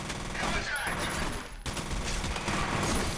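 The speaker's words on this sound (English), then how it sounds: "They just started shooting." Enemy gunfire in the video game F.E.A.R. rattles in rapid automatic bursts, loud and close, with a brief break midway before the shooting resumes, while someone talks over it.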